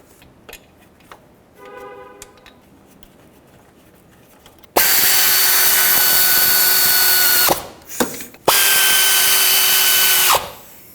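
A power tool whirs loudly driving bolts into a serpentine belt tensioner on a 2007-2010 Chrysler Sebring, after quieter clicks and handling noises; two long sustained runs with a brief stop between them, close up.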